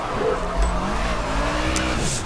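Race car in the Project Cars video game sliding sideways off the track during a time trial, a steady engine drone with a rising whine and a brief tire screech, no voices.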